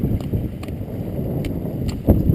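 Steady wind gusting at Lake Helene in Rocky Mountain National Park, a continuous buffeting rumble across the open mountain lake with a few brief knocks, no talking.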